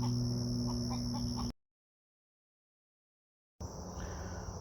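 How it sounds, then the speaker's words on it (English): Agitated chickens on a small farm cluck and squawk close by, briefly broken by a stretch of silence before the clucking resumes. "I think the chickens are a little upset over this guy."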